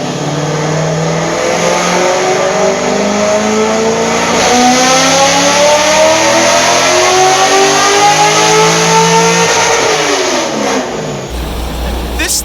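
Naturally aspirated LS1 V8 with AFR heads and a larger cam revving hard on a chassis dyno, a loud sustained climbing engine roar that sweeps upward through the rev range for about ten seconds before cutting off abruptly.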